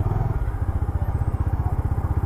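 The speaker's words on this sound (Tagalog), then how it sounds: "Motor na to, PG1. Yamaha PG1." Yamaha PG1 motorcycle engine while riding, a loud close steady single-cylinder putter with rapid even pulses and a faint rattle.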